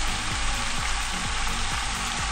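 Steady sizzling of zucchini and carrot frying in a hot pan over high heat, a constant crackling hiss with faint scraping pulses, close and fairly loud, no voices.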